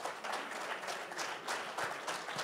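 Faint audience applause at a Puerto Rico symposium on Hurricane Maria, a steady patter of clapping heard from a distance throughout, with no voices over it.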